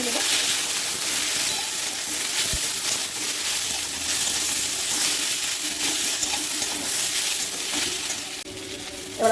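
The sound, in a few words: stirring fried potato and onion with spices in pan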